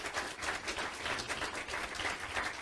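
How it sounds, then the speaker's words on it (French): An audience at a Caribbean Christmas song contest applauds, a lively, fairly close burst of many hands clapping with rhythmic swells, continuing steadily throughout. "On les applaudit très fort."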